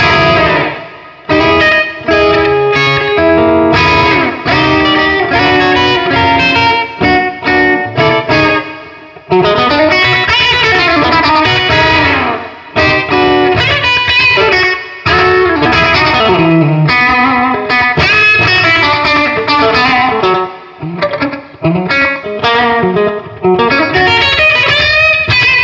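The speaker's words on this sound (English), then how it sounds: "I'm going to add a little bit of delay, just a splash of a slapback." Electric guitar played through a Fender Bassbreaker 15 amp with a short slapback delay, loud and continuous, with overdriven chords and note runs repeating faintly behind each attack and only brief pauses between phrases.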